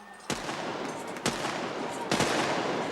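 Field guns fire during a naval field gun competition, three sharp loud blasts about a second apart over a continuous noisy crowd roar.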